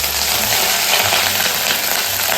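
Mustard seeds and curry leaves sizzling in hot oil, a loud, dense, continuous crackle and hiss close by, with no talk over it.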